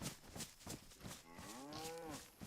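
A cow lows once in a long, drawn-out moo with a rising then falling pitch, set over a steady rhythm of footsteps in the DayZ video game; moderately close and alone, with no talk.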